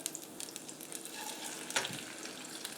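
An egg frying in a pan, a faint steady sizzle with small crackles and one brief scrape of a spatula turner sliding underneath, no talking.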